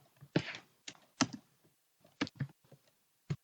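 Someone typing code on a computer keyboard gives sparse, irregular key clacks, a few quick bursts then single taps, close and crisp in a quiet room.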